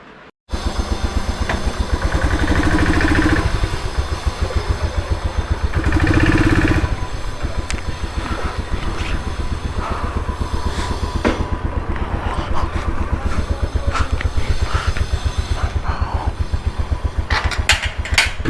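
A motorcycle engine runs steadily close by, a continuous throbbing rumble with a few brief revs and clanks, no talking.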